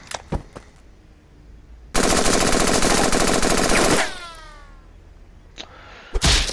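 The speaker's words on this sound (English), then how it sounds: "Let's do the rifle. Let's shoot the man." Rifle fire from the Henry Stickmin Collection video game: after a short quiet lead-in, a loud, dense two-second burst of rapid shots, then fading whistling ricochet tones and a few scattered later hits.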